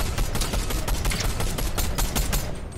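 Rapid gunfire in the Fortnite video game as a player shoots down a tree, a dense, loud burst of shots that runs continuously for about three seconds.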